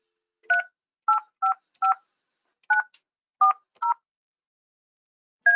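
Yealink desk phone keypad producing a string of short, distinct dialing tones in an uneven rhythm, about nine presses, each a crisp beep with silence between.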